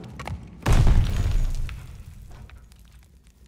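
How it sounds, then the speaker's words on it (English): A grenade detonates in Call of Duty: Vanguard's campaign, a heavy close boom with a rumbling tail that fades over about two seconds, preceded by faint scattered battle noise. "Grenade, get down!"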